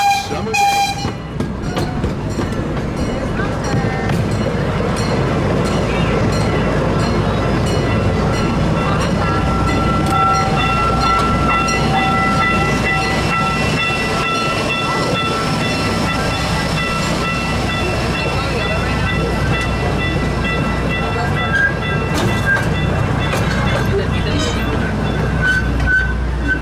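Riding aboard the C.P. Huntington miniature train at the Kemah Boardwalk amusement park, with continuous rumbling and clacking of the cars, occasional horn toots and background voices throughout.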